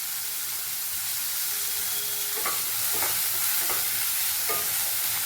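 Salted onions sauté in a pan with a constant hissing sizzle and a few light stirring taps partway through, close and steady, no voices.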